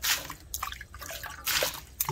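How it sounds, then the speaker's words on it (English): Water splashes and patters in uneven bursts, close by, as if poured onto something grainy, with drips and sloshing between pours. "So now we're gonna just move over some water"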